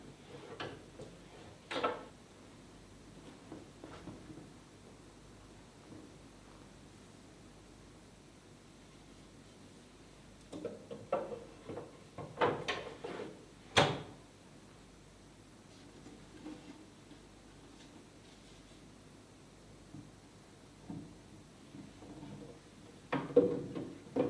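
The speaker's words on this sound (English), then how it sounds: "there's another wooden spring that actually pushes the drawer out" Wooden spring pushing out a hidden drawer in an antique cabinet, heard as a few quiet woody clicks and knocks in an otherwise near-silent room.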